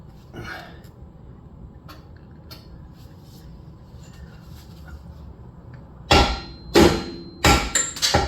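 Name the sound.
brass hammer striking a bolt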